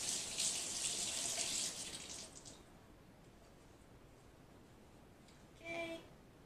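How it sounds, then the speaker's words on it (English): Kitchen tap water running while washing cilantro, a steady hiss for about two seconds that then fades to near quiet, with a short clatter near the end. "Wash off my cilantro."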